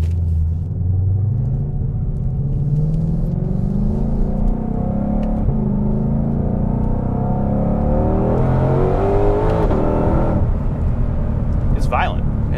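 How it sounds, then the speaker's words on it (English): A 2020 Ford Shelby GT500's exhaust, set to track mode, roars as it accelerates hard in second gear, the engine note climbing steadily in pitch under heavy rumble, ending with a quick shift. "adjust the exhaust into the track setting. And we'll give her a little second gear pull."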